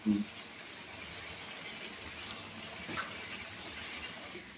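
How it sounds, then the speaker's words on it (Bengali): Water poured into a cooking pot makes a steady close splashing rush after a short knock at the start, running evenly throughout. "এবার মা জল ঢেলে দিল"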